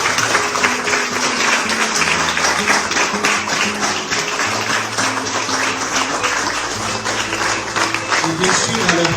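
Audience applause at a French poetry and women's event thanking four speakers, a dense, steady clapping that runs loud and continuous throughout, with sustained tones and voices blended underneath.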